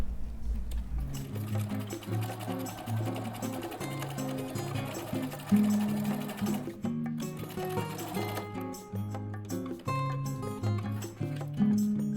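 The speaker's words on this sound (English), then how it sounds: "I sew along the edges on the sewing machine" A sewing machine runs steadily in a long continuous stitching burst along fabric edges, whirring at a fairly even pace with music playing underneath.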